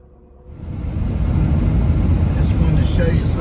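A car drives through Wyoming national forest and snow country, its road noise and steady engine rumble swelling in after a quiet opening and holding as a constant broadband roar.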